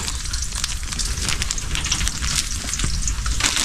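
Steady, dense sizzling and crackling of bananas frying in hot oil, continuous and fairly close, with no voices.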